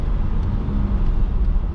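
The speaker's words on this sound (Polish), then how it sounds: "To samochód się kręci do 4600, akurat tak tu jest zaprogramowane w tym samochodzie." Nissan Patrol with an M57 engine and 8HP70 gearbox, tuned to 400 HP and 750 Nm, revs in sport mode as a steady low engine drone heard from inside the cabin, with no talking.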